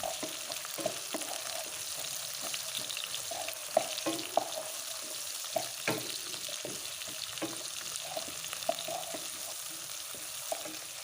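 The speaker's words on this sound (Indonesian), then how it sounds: "Kemudian tumis kembali hingga semuanya layu" Water spinach stir-fried with chili and tomato hisses and sizzles steadily in a hot pan, with scattered clinks and scrapes of a utensil stirring throughout and no talking.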